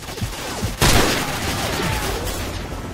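Enemy gunfire in Call of Duty 4: Modern Warfare on Xbox 360, with a loud burst of rapid shots that erupts partway through and keeps going as dense, sustained fire under faint background game noise.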